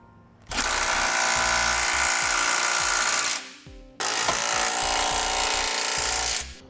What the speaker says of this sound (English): Right now we'll snug down our 1/2 inch hardware with a 3/4 inch socket.